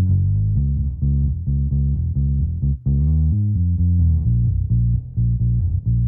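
Bass guitar run through a low-pass filter so only its low frequencies remain, playing a steady line of sustained notes that sound deep and muffled, with a brief break near the middle and no talking.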